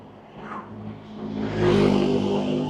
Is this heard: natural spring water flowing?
no